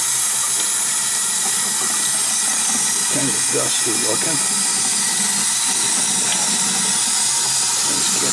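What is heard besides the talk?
water spraying to wash concrete garden statues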